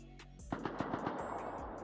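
AK rifle firing in Rust Console, a rapid burst of about eight sharp shots in a steady rhythm, somewhat distant and faint.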